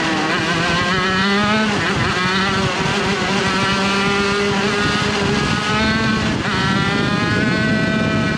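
An 80cc shifter kart engine screams through a race lap, its high revving note rising and falling steadily with gear changes, loud and continuous throughout with no talking.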